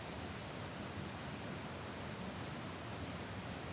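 A large waterfall roars about 25 feet away at a creek park, a steady, dense, unbroken wash of noise that holds evenly throughout with no voices over it.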